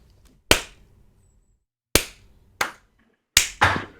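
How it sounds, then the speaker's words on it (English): Sharp, isolated hand claps spaced irregularly, five distinct smacks with silence between them, close and loud with no talking. "Can we all give a little slow clap for Rory?"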